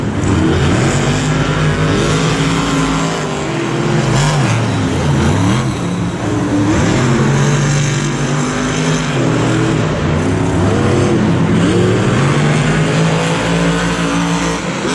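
Monster trucks Whiplash and Team Hot Wheels Firestorm race at MetLife Stadium during a muddy 2018 Monster Jam event, engines roaring loudly and continuously with shifting revs over a dense stadium din, no talk.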